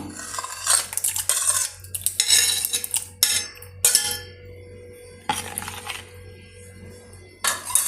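Watermelon pieces mixed for juice, with a spoon clinking and scraping against the vessel in irregular bursts separated by brief quiet gaps.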